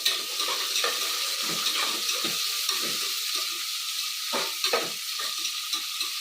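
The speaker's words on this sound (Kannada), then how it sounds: "ಈರುಳ್ಳಿ ಹಾಕ್ಕೊಳ್ತೀನಿ ಇದು ಸ್ವಲ್ಪ ಫ್ರೈ ಆಗಿದೆ" Onions sizzle steadily in a hot pan for beetroot biryani, a close, constant hiss broken by occasional stirring scrapes, with no voices.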